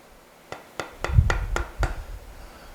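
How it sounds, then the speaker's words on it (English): Six sharp taps of a mallet or hammer on an old, cheap 1/2 inch chisel, paring wood from an angled pocket hole while repairing a broken dining table bench. The strikes come close and clear at a steady, slightly uneven pace. "I'm just trying to tap a little bit more wood away from that angled pocket hole"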